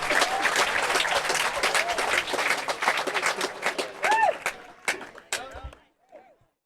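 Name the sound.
crowd cheering and applauding a great rally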